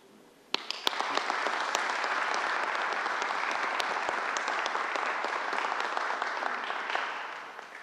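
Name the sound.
audience applause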